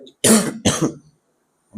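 A man gives two sharp throat-clearing coughs close to the mic, short and harsh bursts, followed by silence and a brief noise at the end.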